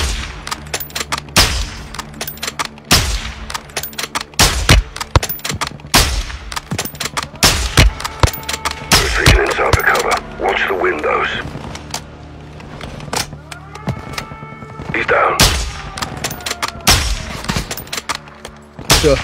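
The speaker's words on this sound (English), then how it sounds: "They're returning fire." Repeated gunfire from enemy soldiers in a combat video game, loud sharp shots in bursts and single cracks spread across the scene, with brief bits of radio-style talk mixed in.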